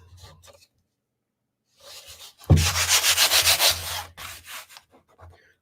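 Sandpaper rubs back and forth on a surface in close, loud strokes. A few short scrapes come first, then a rapid burst of about eight rhythmic passes, then slower strokes.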